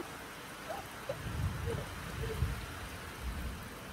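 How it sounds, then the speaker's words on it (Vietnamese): Rain falling outdoors during river catfish fishing in Vietnam's Mekong Delta, a soft continuous patter and hiss with scattered drops, quiet and steady with low rumbles underneath. "Ê, mưa nè"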